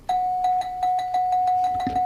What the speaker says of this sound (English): You got yourself a little bell there, friends.